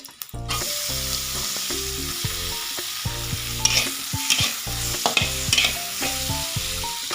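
Chopped tomato and green chilli hit a pan of already fried vegetables for pasta, sizzling steadily while a spoon scrapes and stirs in repeated clattering strokes, close and continuous.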